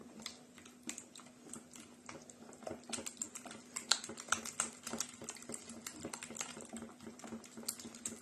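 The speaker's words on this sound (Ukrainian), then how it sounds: "два яйця, сіль. Перемішуємо." Two eggs being mixed with salt for a moussaka sauce, heard as quick, steady tapping and clicking of a utensil against a bowl, close and fairly soft, with no talking.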